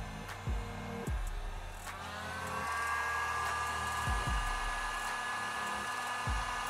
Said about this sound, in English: You'll probably hear the fan come on for the inverter.